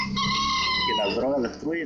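Chickens squawk and cluck loudly up close on a remote ranch, shrill overlapping calls with a crowing rooster in the mix, all in a short burst.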